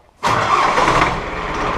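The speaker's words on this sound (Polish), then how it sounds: "Świetnie zapala." An Ursus 385 tractor diesel with newly repaired injectors fires up abruptly after a brief quiet moment, then settles into a loud, steady idle close by.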